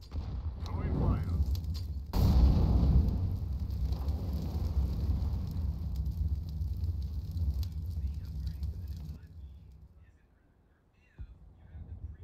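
An incendiary grenade burns in a tactical shooter match, a loud steady roar of crackling fire that swells early, holds for several seconds, then dies away, with faint voices mixed in.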